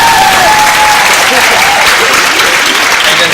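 A high school theatre audience applauds drummer Jared Kohlberg with loud, dense clapping that holds steady across the whole moment, with a faint crowd murmur underneath.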